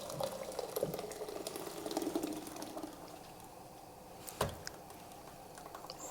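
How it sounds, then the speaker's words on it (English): Quiet bubbling and light crackling of water simmering in a pot, with small clicks and a louder knock partway through. "the water that is over here boiling"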